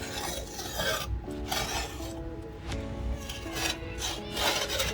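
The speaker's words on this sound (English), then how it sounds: "Do a nice clean cut on the clean side of your drywall" A blade rasps through drywall in quick back-and-forth scraping strokes, close and gritty, with a few sharper scratchy bursts and no talking.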